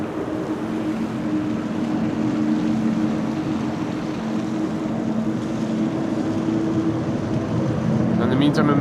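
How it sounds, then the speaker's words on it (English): A Boeing 777 starting its engines at Amsterdam Schiphol Airport on a windy day: a steady, loud jet drone and whine, rising slightly toward the end, with a constant low hum beneath. "This is the 777 who is starting its engines."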